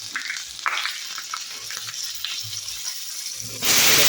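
Bay leaves and dried red chilies fry in oil in a pan, where potatoes have just been fried, with a soft steady crackling sizzle and a few stirring scrapes, then a sudden louder hiss near the end.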